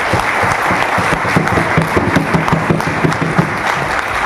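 A hall audience at an achievers' celebration claps steadily and loudly for a guru, a sustained wash of applause with a faint voice carrying underneath.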